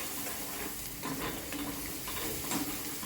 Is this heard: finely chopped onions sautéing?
yes